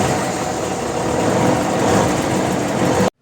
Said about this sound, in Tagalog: umandar naman ito mga guys.